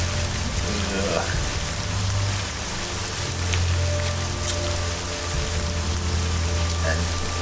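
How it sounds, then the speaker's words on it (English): Steady rain pours down in the video game Nehrim, a dense, even hiss of drops on surfaces filling the whole stretch, with faint low rumbling beneath. "oh god, it's fucking raining"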